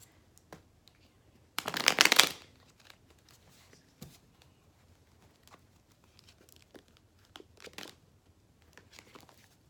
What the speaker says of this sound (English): One more shuffle and then we'll get started.